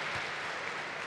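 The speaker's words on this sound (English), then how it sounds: "gets greeted with a really nice round of applause from the crowd here" A basketball crowd at a EuroBasket game between Spain and Romania gives steady, fairly faint applause with no break, as an even wash of clapping in the arena.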